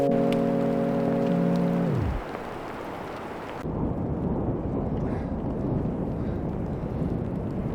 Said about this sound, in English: That was just a massive clap of thunder.